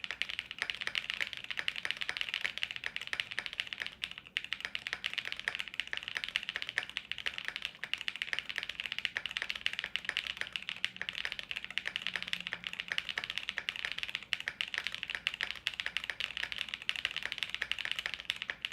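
Steady, fast typing on a $159 mechanical keyboard, a dense run of close, crisp keystrokes clattering continuously with no voices.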